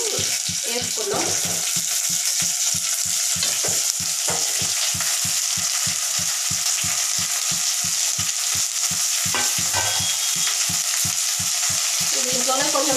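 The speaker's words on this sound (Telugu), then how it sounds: "ఉల్లిపాయలు మగ్గిపోయినాయండి. కొంచెం పసుపు వేసుకున్నాం. కొంచెం పసుపు ఇంకా ఈ బెండకాయలు వేసుకొని వేసుకున్నాం." Onions and okra fry with turmeric in a pan, a loud, steady sizzle close by, broken by a quick, regular series of stirring scrapes and taps through most of the stretch.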